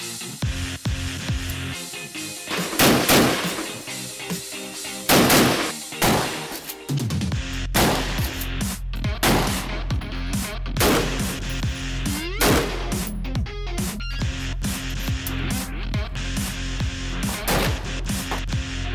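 Repeated shots from a UBS12 under-barrel shotgun at a shooting range, a loud run of sharp blasts ringing out one after another over steady background noise.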